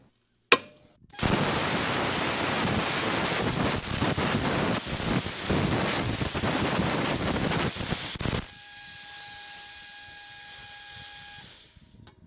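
Silatu 75 amp plasma cutter slicing through steel plate at 70 amps and 51 PSI, a loud steady roaring hiss starting abruptly after a sharp click, running several seconds, then cutting off to a quieter airflow with a faint whine.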